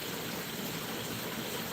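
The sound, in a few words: water flowing in a shrimp creek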